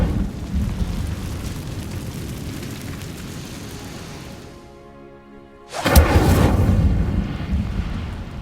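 An Incendio fire spell cast in the Hogwarts Legacy video game during the Trials of Merlin: a long rumbling roar fades into a lull, then a sudden loud whooshing burst of flame erupts and keeps roaring.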